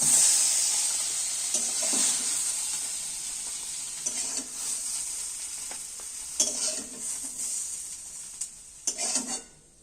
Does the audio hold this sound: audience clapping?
no